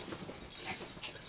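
A dog whimpers with a couple of short, thin, faint cries in a brief moment indoors.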